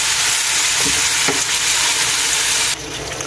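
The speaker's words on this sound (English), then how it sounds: "So now I had my meat, so I'm just going to combine everything together." Goat meat for Jamaican curry goat sizzles loudly in a pot, stirred with a few scraping knocks, a steady close frying hiss that eases slightly near the end.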